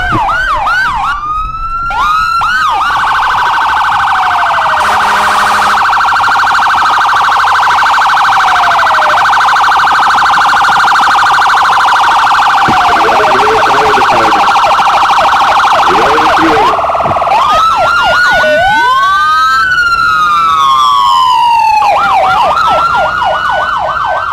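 A loud fire engine siren wails and yelps continuously, cycling between sweeping tones and rapid warbles as the vehicle draws near.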